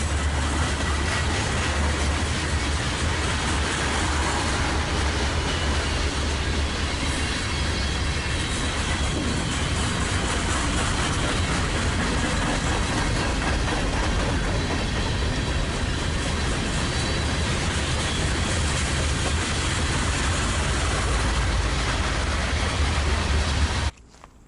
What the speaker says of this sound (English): SD40-2 number 3381 is doubleheading with a GP38-2